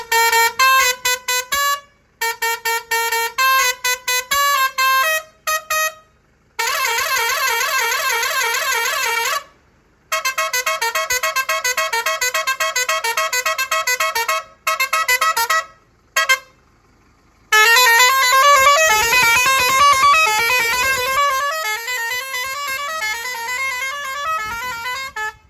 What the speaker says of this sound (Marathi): आता सध्या तुम्ही बघू शकता खाली 6 पाईपची कोबराची हॉर्न फिटिंग केली आपण तिला.